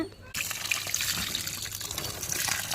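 Rinse water left from washing urad dal poured onto a potted plant, a steady close splashing trickle that starts abruptly and continues evenly throughout.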